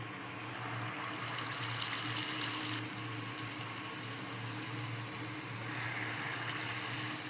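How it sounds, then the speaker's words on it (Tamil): Small wheat bonda balls drop into hot frying oil, which sizzles in a continuous close hiss that swells slightly in places, with no speech. "ஆயில் சூடாயிடுச்சு. இப்போ நம்ம போண்டா போட்டுடலாம்."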